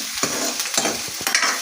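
Green chilies and chopped onion frying in hot oil give a bright, steady sizzle, with a handful of sharp scraping stirs against the pan, close up and without talking.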